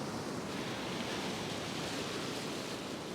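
Ocean surf rolls in on the Northumberland coast, a steady close broadband wash of breaking waves that keeps going without a break, with wind roughening the sound and no one talking.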